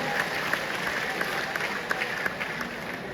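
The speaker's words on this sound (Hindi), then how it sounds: "एक बार जरा जोरदार तालियां बजाएं" An audience at a kavi sammelan poetry recital at IIT Ropar claps enthusiastically, a sustained applause with a few sharper individual claps standing out.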